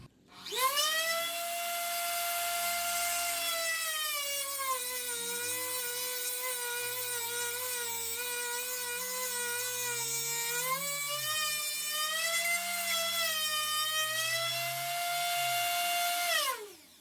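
A bench-mounted tungsten electrode grinder with its dust cover on, fixed to a weld table, spins up into a loud, high, steady whine that dips in pitch as the electrode is pressed against the wheel, then winds down, no talking.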